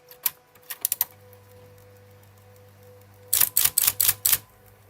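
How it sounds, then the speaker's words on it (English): An electronic German typewriter clacks out a quick burst of four or five keystrokes, pauses with a faint hum, then fires off another rapid run of sharp, close strikes. "So it's a typewriter."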